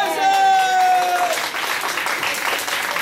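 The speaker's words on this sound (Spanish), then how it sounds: "¡Es un aplauso!" Applause from a studio audience on a children's TV show, rising after a voice speaks over a held musical tone, then continuing as a loud, busy clatter of clapping.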